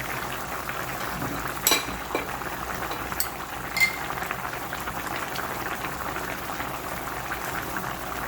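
Snake gourd being sautéed in ghee in a pan, a soft continuous bubbling sizzle with occasional light scrapes and clinks of a spoon against the metal.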